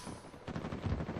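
Gunfire from an online multiplayer match of the video game Uncharted 4, with a quick run of sharp shots and bursts crackling over a dense game mix and no one talking.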